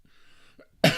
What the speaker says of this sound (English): I'm sorry if I'm coughing. I'm kind of working over a little bit of a cough.